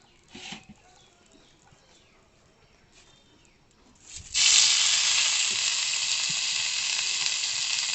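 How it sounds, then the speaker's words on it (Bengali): Pumpkin leaves hit a little hot oil in a pan, bursting into a loud, steady sizzle about halfway through that keeps hissing to the end after a quiet stretch of faint kitchen noise. "এগুলো এখন এই অল্প তেলের মধ্যে এটা ভেজে নেবো"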